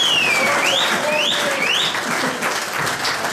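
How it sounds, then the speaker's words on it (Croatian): An audience at a book promotion evening applauds, with dense, sustained clapping filling the room and a few shrill whistles rising above it. "ja molim jedan aplauz za taj urednički geni"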